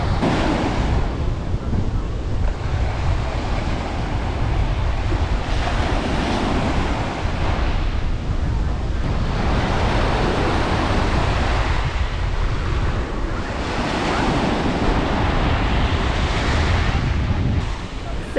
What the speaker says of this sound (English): We are officially in Key West and walking out onto Smathers Beach.